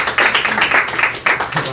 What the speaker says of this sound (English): Big round of applause for helping out, of course.